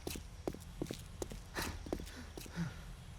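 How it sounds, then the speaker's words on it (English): Footsteps of a woman in the 7 Days to Die game (Darkness Falls mod), a steady series of soft, evenly spaced thuds about every half second, moderately close, with faint background ambience and no talk. "I hear footsteps from a lady,"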